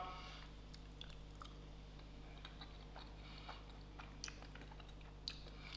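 Close, quiet chewing of crunchy biscuit pastry from a South African milk tart, with small crisp crunches and clicks over a steady low hum, no talking.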